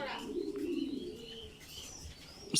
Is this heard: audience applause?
no